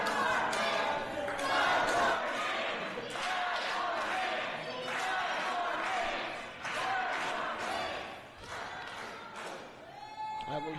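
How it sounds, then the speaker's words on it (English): A large crowd at Fresno City College roars and cheers in sustained, loud waves, with shouts and claps rising and falling throughout before thinning out near the end. "it sounds like this crowd at Fresno City College wants it too"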